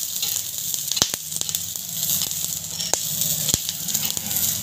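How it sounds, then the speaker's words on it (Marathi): Green chillies roast in a little oil in a pan, giving a continuous bright sizzle punctuated by sharp pops and crackles at irregular moments, close and loud with no voices. "थोडंसं तेल टाकून घेते मी मिरच्यावर. छान एकदम खमंग भाजून घ्यायचं"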